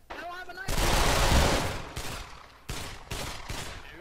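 Gunfire in Pavlov VR, a burst of rapid shots followed by several separate sharp reports, loud and close, with a brief voice at the start.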